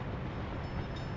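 A train moving in the Workers and Resources game, a steady low rumble of rolling wagons that stays even and dense throughout, with no voices over it.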